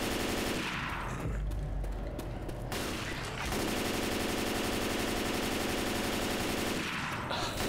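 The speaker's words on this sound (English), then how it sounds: "Ha-ha! Machine gun!" Machine gun fire in the zombie shooter Left 4 Dead 2 roars nearly nonstop, loud and close, in dense rapid bursts with brief lulls between volleys.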